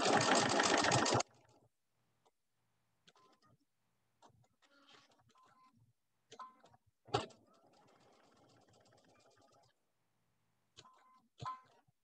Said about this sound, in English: There are a lot of different ways to use your quilt machine, your long arm.